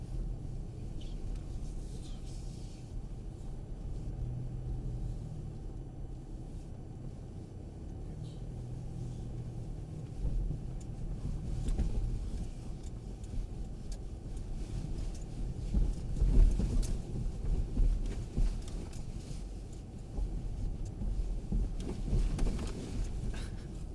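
A Mercedes-Benz 4x4 crawls over a bumpy rocky track, heard as a steady low engine rumble with irregular thumps and jolts swelling midway, and no talk.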